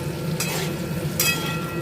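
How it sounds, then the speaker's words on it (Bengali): Potatoes frying in a pan with salt and turmeric give a steady close sizzle, broken by two brief scraping stirs; no one talks. "আলুগুলো ভালো করে নুন হলুদ দিয়ে ভেজে নিচ্ছি"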